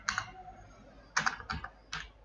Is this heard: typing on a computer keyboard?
yes